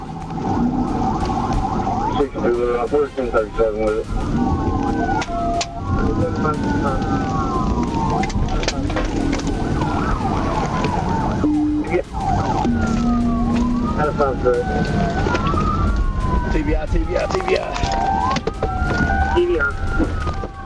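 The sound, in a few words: police car sirens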